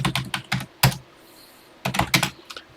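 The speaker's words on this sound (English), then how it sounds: "And let's get typing." Keys clatter on a TI-99/4A computer keyboard as a BASIC program is typed in, short bursts of quick clicks broken by a pause, close and fairly quiet.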